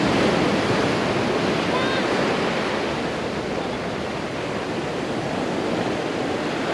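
Ocean surf at Playa Norte beach in Cancun rolls in as a loud, unbroken roar of washing waves, with wind buffeting the microphone the whole time.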